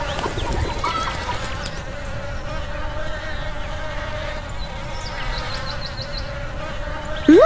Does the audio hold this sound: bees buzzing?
yes